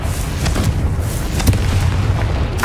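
Fiery blast from the Confringo spell in the Hogwarts Legacy video game, a low rumbling boom with a sharper burst around the middle, set over steady game background noise.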